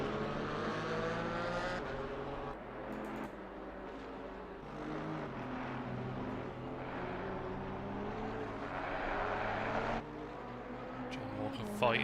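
GT4 race cars lapping Zolder in a sim racing game, several engines droning and shifting together at steady loudness throughout, with a commentator's voice running underneath.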